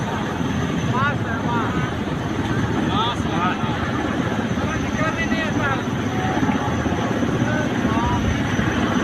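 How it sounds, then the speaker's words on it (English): Helicopter rotor blades churn in a steady, dense roar that stays loud and continuous, with voices faintly audible underneath. "the swirling of the helicopter blades"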